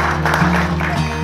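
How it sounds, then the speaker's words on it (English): Guests at a wedding applaud after the couple's ceremony kiss, a short burst of dense clapping mixed with steady background music. "I think we need a very big round of applause"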